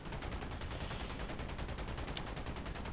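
P-51D Mustang machine guns firing a long sustained burst in War Thunder, a rapid, evenly spaced rattle of shots that runs dense and loud from start to end.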